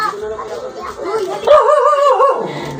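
A dog gives a few short yips and barks at close range, mixed in with people talking and a high-pitched voice in a home setting.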